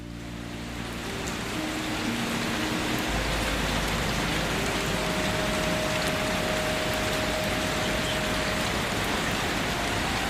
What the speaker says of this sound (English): The sound of the rain becomes clearer now. Tap,